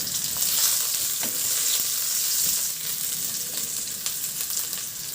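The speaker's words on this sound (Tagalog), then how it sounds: "Magpainit na ako ng mantika sa kawali at igisa ko na yung bawang." Garlic and onion sautéing in hot oil in a pan, a steady loud sizzle with occasional stirring scrapes and no voices.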